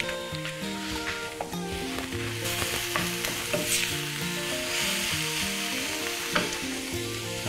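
Garlic and ginger fry in a pan for a lamb, potato and spinach curry, a steady close sizzle with occasional stirring, playing alone under light background music.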